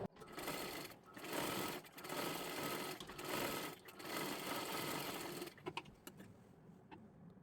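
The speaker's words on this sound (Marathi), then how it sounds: "आता ह्याच्यावरती आपल्याला परत एकदा डबल शिलाई मारून घ्यायची आहे" A sewing machine runs a double line of stitching along a little girl's frock sleeve, a steady close mechanical whir in long runs with brief dips, stopping near the end with a few small clicks.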